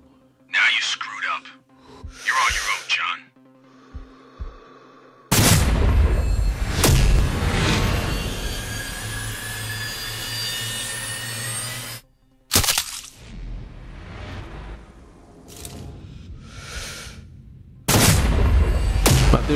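Three loud sniper rifle shots crack out at spaced intervals in the video game Sniper Ghost Warrior 3, each followed by a ringing tail. Quiet voices and game sounds fill the gaps between shots.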